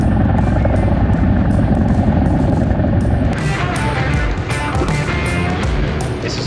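Fleet Canuck light airplane engine roaring steadily and loud near the runway for takeoff, with a broadband rumble that rises in pitch and intensity partway through as it powers up.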